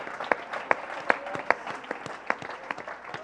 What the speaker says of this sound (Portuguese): Aplaude aí.